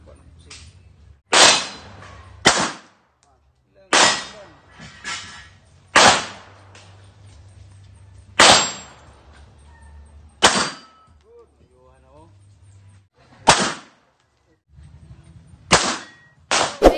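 A real handgun fires about eight sharp, loud shots at uneven intervals, each crack ringing out briefly before a quiet gap, with low background murmur between shots.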